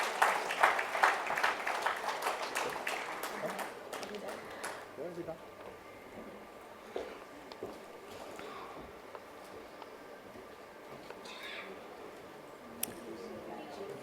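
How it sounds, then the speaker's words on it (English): A crowd applauds loudly and steadily, the clapping thinning out and fading after a few seconds while a voice speaks over it. "A big round of applause for all our awardees of Excellence"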